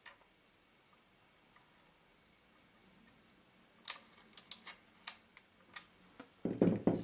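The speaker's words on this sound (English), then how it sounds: "fire the shutter again" A Canon F-1 film camera's shutter fires on its sticky slow-speed gear, a burst of sharp mechanical clicks and ticks over a few seconds, close and distinct in a quiet room, ending in a louder rattle.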